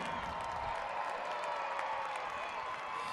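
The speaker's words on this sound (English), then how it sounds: "And the crowd loved it. Listen to that pop right there." A large arena crowd cheers after a Grave Digger run at a Monster Jam freestyle truck event in Las Vegas, a steady, even roar heard from a distance with no gaps.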